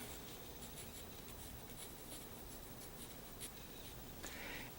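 A pen or pencil writes a definition in the margin of a paper page, giving faint, steady scratching with small strokes and taps under a hissy background. No voices are heard.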